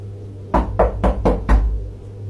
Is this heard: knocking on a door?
yes